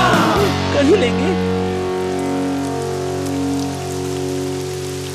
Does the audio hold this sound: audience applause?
no